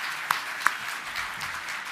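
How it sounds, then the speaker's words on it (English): A small audience at an International Women's Day event gives a faint, scattered round of applause, with two sharper claps near the start standing out against a soft, continuous patter. "I'd love us to give ourselves a round of applause for turning up today"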